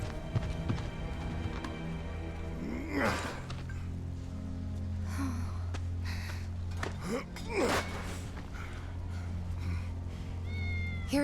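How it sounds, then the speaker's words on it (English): Wedge's cat meowing in Final Fantasy 7 Remake, several drawn-out, rising-and-falling meows spread across the scene over a steady low game hum, with faint hoof-like clatter and a short high cry at the end. "That's Wedge's cat."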